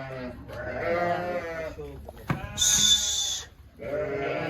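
Sheep on a sheep farm bleat loudly and close by, one long wavering call after another, with a brief rustle and a high squeak between them.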